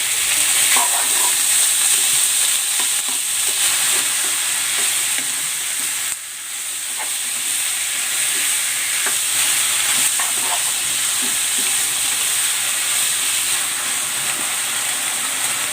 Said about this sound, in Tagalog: Igigisa ko na itong pork.